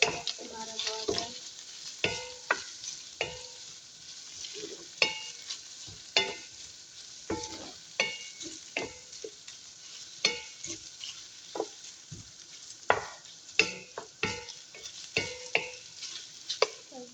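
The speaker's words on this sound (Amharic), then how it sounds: "ነጭ ሽንኩርትና ዝንጅብላችንን አብረን እንጠብሳለን ማለት ነው" Garlic and ginger fry in a pan for creamy pasta, a steady sizzle broken by frequent scraping stirs and utensil clatter against the pan, close and continuous.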